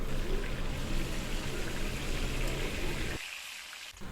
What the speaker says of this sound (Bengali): বাকি মাছগুলো একইভাবে দিয়ে ভেজে নেব